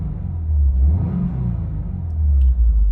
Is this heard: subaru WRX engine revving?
yes